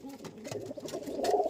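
A female pigeon gives a soft, low coo up close, a brief burbling call over quiet background.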